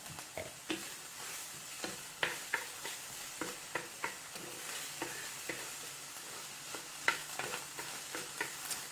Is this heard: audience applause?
no